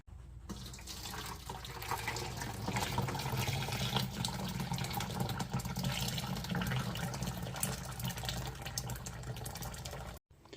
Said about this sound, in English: All right, we'll wash our pot out.